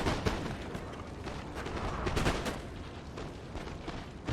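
Artillery batteries fire canister shot in Napoleon: Total War, a ragged fusillade of distant cracks and booms rolling on continuously over the battlefield.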